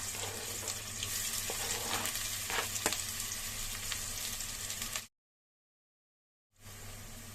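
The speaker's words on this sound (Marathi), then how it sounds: "2 टेबलस्पून तेल तापलं की लगेच त्यात जिरं टाकायचंय, चिरून ठेवलेला कांदा" Cumin and chopped onion frying in two tablespoons of hot oil, a steady close crackling sizzle with a few stirring scrapes that cuts out abruptly to silence for over a second before the sizzle resumes.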